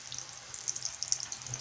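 Hot oil sizzling steadily in a pan while preparing potato bourek, a soft continuous crackle with small pops scattered throughout, close and moderately quiet, no talking.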